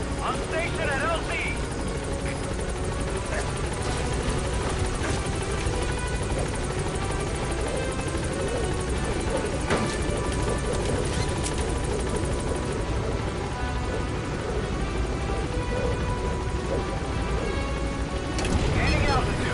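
The Pequod helicopter hovers at a landing zone in Metal Gear Solid 5, its rotor chop and engine whine sustained and loud throughout, with game dialogue spoken over it.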